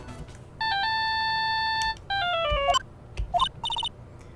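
A cell phone ringtone chimes in a Phoenix Wright video game: a sustained electronic melody with stepped tones, a brief gap, then a falling phrase and a few short beeps, clear over faint background.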